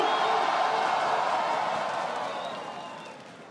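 Studio crowd at a rap battle final cheers and claps for JP, Jaya and Dudu, a broad wash of noise that starts loud and gradually fades over a few seconds.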